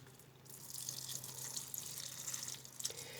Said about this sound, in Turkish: Çiçeklerimizi azar azar sulayalım